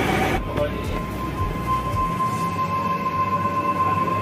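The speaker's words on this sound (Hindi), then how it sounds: "मेट्रो स्टार्ट होने वाली है" Lucknow Metro train pulling away from a station, heard from inside the carriage as a steady low rumble and hum with a sustained tonal whine, with voices murmuring briefly at the start.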